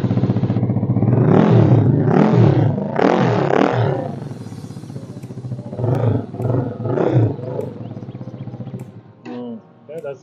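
Voge 300 ACX single-cylinder DOHC motorcycle engine revving in several sharp, loud blips with a raspy bark, each rev rising and falling quickly, separated by short idle gaps.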